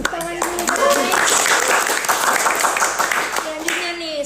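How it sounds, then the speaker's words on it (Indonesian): A university audience claps steadily for a few seconds, a dense patter of hands, while voices speak over and around the applause. "Tepuk tangan dulu guys."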